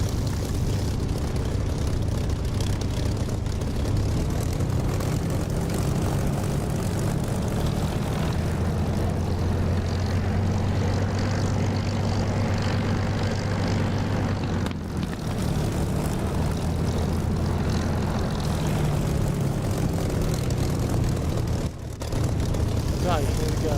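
Propeller aircraft engine running steadily while taxiing in the DCS flight simulator game, a continuous loud drone with a slowly shifting low hum, under some talk.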